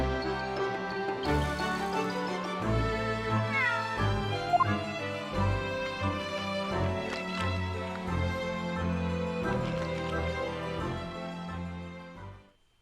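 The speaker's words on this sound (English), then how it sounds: "I wonder how he got in here, clever cat." A cat meows in the video game The Great Ace Attorney 2, with several mewing calls set over steady, loud game music that runs throughout.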